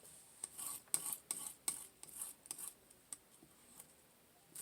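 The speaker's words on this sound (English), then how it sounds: "I'm scraping, putting it down, scraping, putting it down, scraping," Oil paint being scraped across a palette with a knife, a series of short, quiet rasping strokes in an irregular rhythm, close by and faint.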